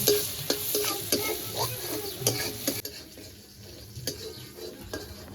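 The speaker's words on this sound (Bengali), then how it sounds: "রসুনটা ভেজে নিয়েছি" Crushed garlic frying in oil with turmeric and salt, stirred with a utensil that clinks and scrapes against the pan in irregular strokes over a soft sizzle, heard up close.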